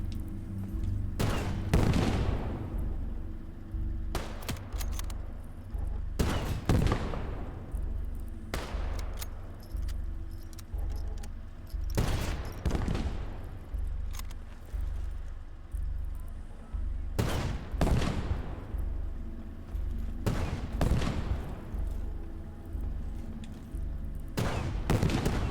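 Tank cannon fire and gunfire in the WWII strategy game Gates of Hell: Ostfront on the Finnish front: loud booming shots every few seconds over a constant low rumble and scattered rifle cracks, with no talking.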